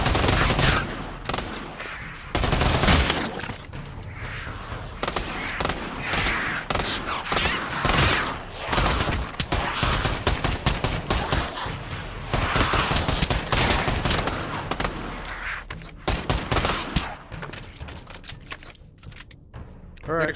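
Rapid gunfire fills a round of the Pavlov video game, with dense bursts and repeated shots crackling almost continuously at close range, brief gaps between volleys.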